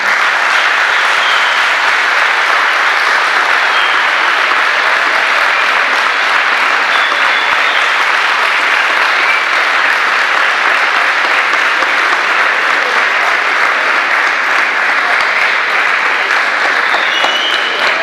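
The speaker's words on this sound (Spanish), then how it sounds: "Le voy a dar la bienvenida con un fuerte aplauso" A studio audience at a Rufino radio and television broadcast applauds loudly to welcome a retired air force commodore, a sustained, even roar of clapping that holds at full strength from start to finish.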